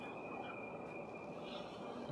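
A Riyadh Metro train runs at speed, heard from inside as a steady, quiet rumble with a faint high whine held throughout.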